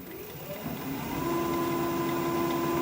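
A wood lathe turns an end-grain, live-edge winged bowl blank at about 1,000 RPM, making a steady mid-level motor hum. A tonal whine rises and then holds constant, with no talk.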